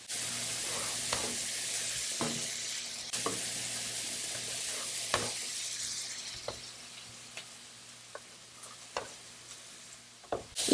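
Thick pen scallop adductors and shrimp sizzling in a hot pan as they are stir-fried, a soft steady hiss with frequent clicks and taps of stirring, close and quiet with no talk.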